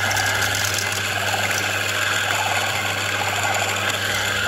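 Steady, loud mechanical grinding of freshly roasted specialty coffee beans at a coffee farm in Bali, a constant whirring drone that holds unbroken throughout.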